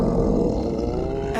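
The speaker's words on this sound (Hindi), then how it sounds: "अच्छा, ये पेट की आवाज थी।" An anime elf's stomach growling from hunger, rendered as a loud, sustained low rumbling roar that fills the whole moment without pause.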